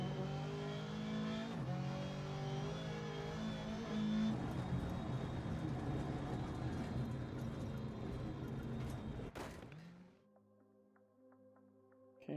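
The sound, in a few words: R5 rally car engine revving in a video game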